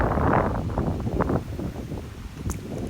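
Strong wind gusts across an exposed mountain summit at Haritha Kanda in Sri Lanka, a steady, loud rumbling buffet on the microphone that eases slightly midway, with no voices.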